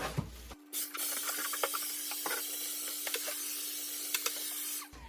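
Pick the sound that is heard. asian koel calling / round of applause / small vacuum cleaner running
small vacuum cleaner running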